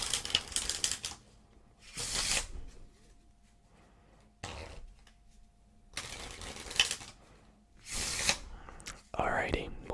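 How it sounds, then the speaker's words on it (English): A deck of playing cards shuffled close up in a quiet room, with repeated bursts of riffling and flapping separated by short pauses. "let's give it a good shuffle"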